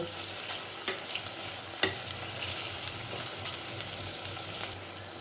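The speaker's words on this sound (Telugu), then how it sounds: "ఆనియన్స్ పచ్చిమిర్చి వేగుతుండగానే మనం తరిగి పెట్టుకున్న క్యాప్సికమ్ ముక్కల్ని వేసి కొంచెం సేపు బాగా ఆయిల్లో మగ్గనివ్వాలి" Capsicum pieces fry in oil alongside onions and green chillies, giving a steady close sizzle with a couple of sharp spatula clicks and scrapes near the start. No one speaks.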